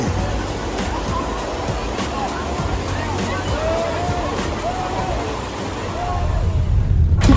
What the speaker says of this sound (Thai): วันนี้เราอยู่กันที่น้ำตกวังเนน